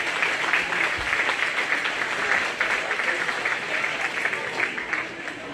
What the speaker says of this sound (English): Another round of applause for Class 4.